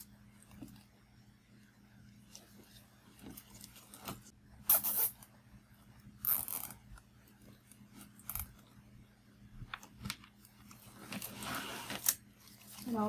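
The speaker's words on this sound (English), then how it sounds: "And now I'm going to zip tie." Zip ties being fastened on a DIY fall wreath, several short, sharp ratcheting zips close to the mic, separated by quieter handling noises.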